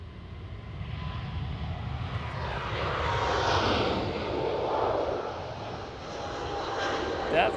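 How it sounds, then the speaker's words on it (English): A KLM Boeing 777 jet departs, its engine roar building into a broad, loud rumble that swells and lingers, with a voice talking over it. "That was a KLM 777 departure."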